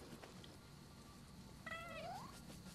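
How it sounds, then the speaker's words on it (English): A cat companion in the Nioh 2 video game lets out a single drawn-out meow, clear but modest in level, over a steady bed of game ambience with no talking. "Come get this cat."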